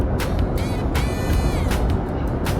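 Steady road rumble from inside a tow vehicle pulling a travel trailer as it overtakes an Amazon truck downhill around a bend, with loud broadband wind and tire noise and a couple of brief hissing swells as the vehicles draw alongside.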